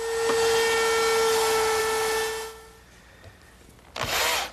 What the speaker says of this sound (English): now I'll relieve these edges with my 1/4 inch rounding over bit in the router table